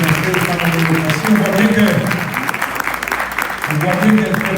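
Audience applause at a women's democracy foundation event, a broad steady clapping wash filling the whole stretch with a loud voice speaking over it.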